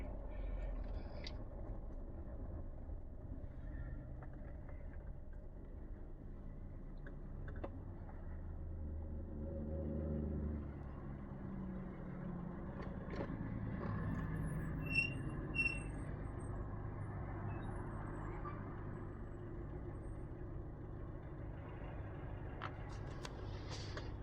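A 1998 Chevrolet Tracker accelerates on a highway, its engine and road noise forming a steady low rumble throughout with slight swells as it picks up speed, plus a faint squeak or two.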